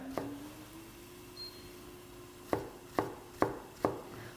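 Four sharp knife chops strike a board in a quick, even sequence after a quiet stretch, cutting green vegetables for soup, close and crisp with no voices.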